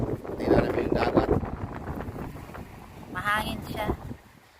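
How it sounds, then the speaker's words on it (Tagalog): Strong wind gusts blow across the microphone on a seaside promenade beside rough water, a rumbling buffeting roar that swells and fades, with people talking briefly over it. "Kaya lang malakas ang hangin."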